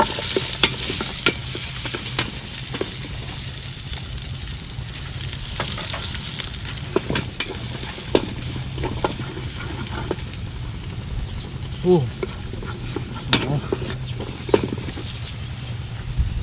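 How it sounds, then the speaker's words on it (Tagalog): Ginger, garlic and onion sauté in a pan for a coconut-milk dish. A steady, moderate sizzle runs throughout, with repeated scraping and clinking of a utensil stirring against the pan. "Gisa muna tayo. Luya, bawang, sunod na natin sibuyas."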